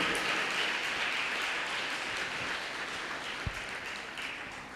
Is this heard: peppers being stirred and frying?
no